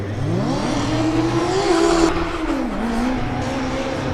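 A Formula Student race car laps the skid pad at a competition, its engine loud and close, revving and rising in pitch, then easing off and holding a steady drone.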